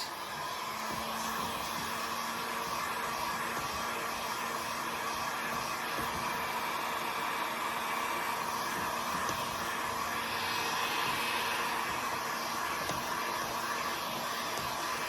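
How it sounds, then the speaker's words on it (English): A heat gun blows steadily to dry white paint on a garden sign, a continuous, even rushing whoosh with no breaks throughout. "I'm using my heat gun to accomplish that."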